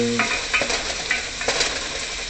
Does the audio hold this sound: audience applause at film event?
no